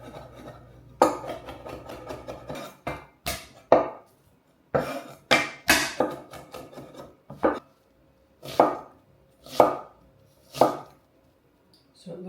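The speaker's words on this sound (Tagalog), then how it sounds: "Let me get my herbs chopped." A knife chops fresh herbs on a cutting board in a home kitchen, a series of crisp, sharp taps in irregular bursts with short pauses between, close and clear with no talking.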